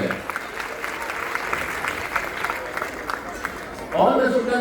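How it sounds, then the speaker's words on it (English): A school audience of students, teachers and parents applauds in a steady wash of clapping for several seconds before a voice begins speaking at the end. "A big round of applause for all of them."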